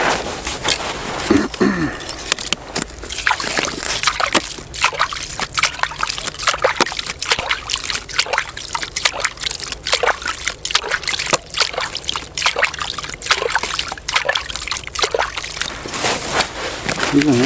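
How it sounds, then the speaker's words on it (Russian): Water is poured into a bloodworm fishing bait mix and stirred by hand, producing a continuous trickle with repeated wet sloshes and squelching clicks close by. "добавляем водички."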